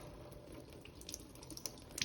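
Water pours steadily from the outlet of a Kangen water ionizer machine, a continuous close splashing stream with a few brighter drips toward the end and no talking.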